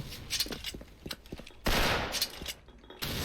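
Gunfire in the Special Force online shooter, with rapid bursts and sharp reports scattered across the clip, two loud broadband blasts near the end as the player is shot by a sniper from behind.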